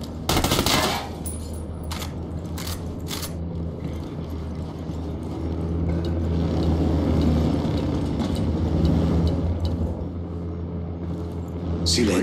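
An Apache attack helicopter fires on the player in the tactical shooter Ghost Recon Wildlands. Sharp bursts of automatic gunfire open the sequence, then a steady heavy rumble continues throughout with scattered louder cracks.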